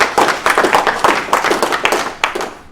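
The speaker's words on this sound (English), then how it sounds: "Let's give a round of applause." Audience applause with a round of hand claps in a room, loud and close, with clustered claps rising and dipping unevenly and no voices over them.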